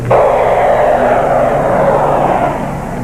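A jet training aircraft used to practise shuttle landings roars steadily, a loud, close, continuous engine drone with a slight fade near the end.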